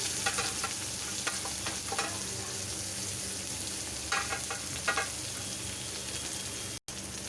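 Chopped onions fry with black cumin seeds and a dried red chilli for a Bengali bhola fish curry, giving a steady close sizzle with occasional stirring scrapes and no talk.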